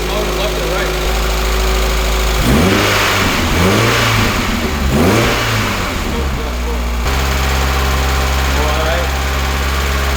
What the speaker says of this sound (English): It started on the first crank, so I'm really excited about that.